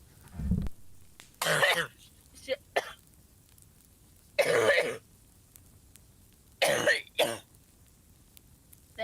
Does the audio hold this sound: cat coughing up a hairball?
yes